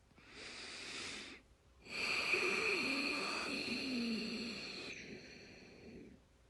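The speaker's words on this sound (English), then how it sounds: "it's closing your mouth and breathing through your nose very loudly, and it should sound like this" Ocean breathing, loud breathing through the nose with the mouth closed, heard up close: a short inhale followed by a longer, raspy, wheezing breath that tapers off, with no talking.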